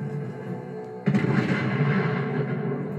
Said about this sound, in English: Oh, I just love a mini nuke.